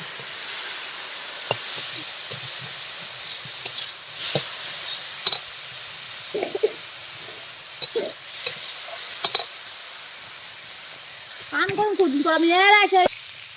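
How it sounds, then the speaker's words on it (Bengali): Potatoes with turmeric stirred and frying in a pan, a soft continuous sizzle broken by scattered spoon scrapes and clinks, with a brief voice-like burst near the end. "পরিমাণ মতো হলুদ এবার ভালো করে নেড়ে চেড়ে ভেজে নেবে"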